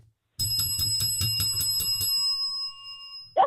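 Custom bells ring in a rapid series of about eight bright, metallic strikes, followed by a sustained ringing tone that slowly decays, loud and alone.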